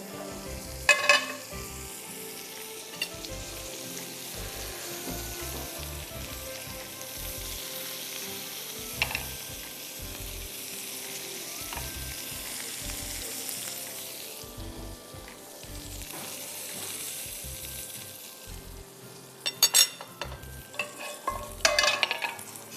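An omelette of leftover egg whites frying in a frying pan, a steady quiet sizzle with repeated stirring and scraping strokes throughout, growing busier and clattering near the end, with no talk.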